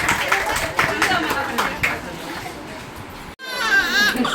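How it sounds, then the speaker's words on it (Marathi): A crowd claps together in a dense, steady patter at a baby naming ceremony, over chatter and a baby's cry. A short break comes near the end. "ए टाळ्या वाजवा सगळ्यांनी"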